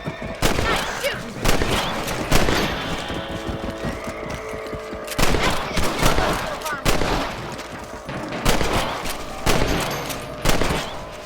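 Rifle shots at rabbits in the video game Red Dead Redemption, a series of loud sharp cracks at irregular intervals over outdoor game ambience, with a voice talking between them.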